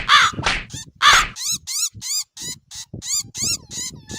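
A cartoon crow caws loudly and repeatedly, with two harsh opening calls followed by a quick series of about eight shorter caws close up. No voices are heard.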